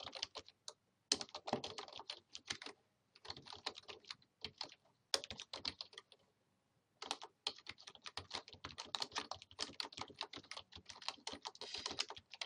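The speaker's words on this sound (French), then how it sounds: "appuyé sur la touche Entrée de notre clavier" Rapid, light clicking of keys on a computer keyboard while writing a simple text, in close bursts of quick strokes separated by short pauses, with no voices.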